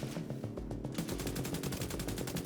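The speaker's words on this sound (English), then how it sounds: "Sniper's up here. That's an SVD, the way that you fired that quick." Rapid gunfire from an SVD sniper rifle in The Division 2 multiplayer combat, a dense run of sharp shots in quick succession, loud and close, with no voices over it.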